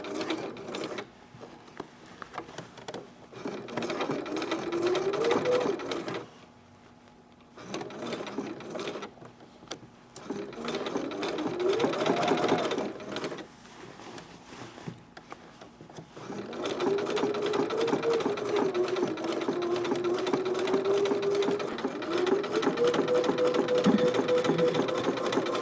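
Sewing machine stitching across a thick bag strap, with a steady mechanical whir that runs in long stretches, pauses briefly several times and speeds up and slows down, fairly close.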